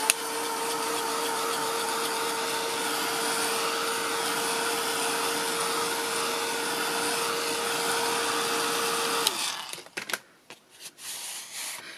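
A heat tool blows a continuous loud whirring hum with a steady tone while drying gesso on paper, then switches off and gives way to a few quiet clicks and light handling sounds.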